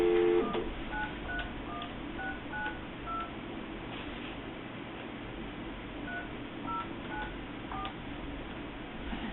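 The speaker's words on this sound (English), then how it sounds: "Hit the line 1. Okay. And then dial." A telephone line is selected and a number dialed, producing a series of short, clear dial-tone beeps in uneven groups over a steady low room hum.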